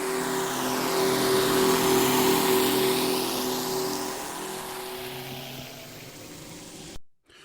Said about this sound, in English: There must be a boat passing by the microphone, right?